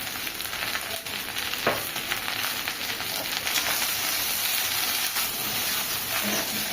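Okra sizzling in a pan for Bengali-style bhindi bhaja, seasoned with turmeric and salt, a steady close frying hiss with occasional stirring scrapes and no talking.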